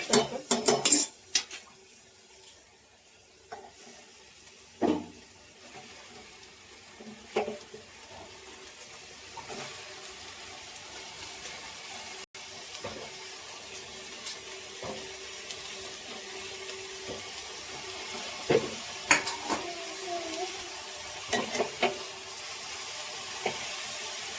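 Pots and utensils clank and scrape intermittently as mustard greens are added to cooked dal in a pan and stirred, with quiet gaps between the louder metallic knocks.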